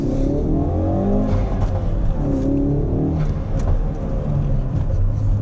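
A Ford Focus RS drives with a steady close engine and exhaust drone, with a few brief hollow pops cutting through now and then, and no talk.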